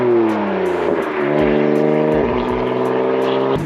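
A stage 2 tuned BMW M4 with crackle-and-bang tuning, its engine droning loud and close while driving, with several rev swells and drops through gear changes and small pops on top.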